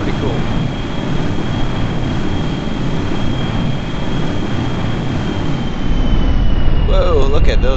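An aircraft in Kerbal Space Program comes in to land; a steady, continuous engine roar with a thin high whine runs throughout and swells slightly louder near the end.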